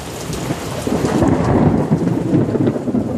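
A thunderstorm rolls nearby, a deep rumble of thunder swelling and fading under steady heavy rain pattering on surfaces, loud and continuous with no voices.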